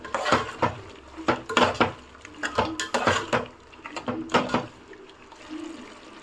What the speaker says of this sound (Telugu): మొత్తం ఒకసారి మిక్స్ చేసుకుందాము.